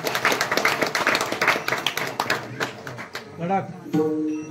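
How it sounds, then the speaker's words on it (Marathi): An audience at a devotional kirtan claps in a dense, fairly loud burst that thins out after about three seconds, giving way to someone speaking. "त्यांच्यासाठी फक्त एकदा टाळ्या होत्या."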